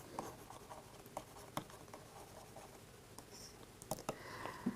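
Chalk or marker scratches and taps on a board during a math lecture: faint, close strokes and ticks in an irregular rhythm, with no talking.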